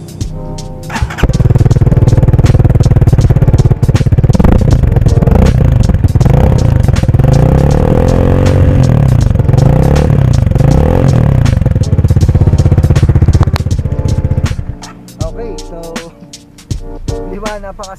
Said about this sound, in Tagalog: ganito yung tunog ng muffler niya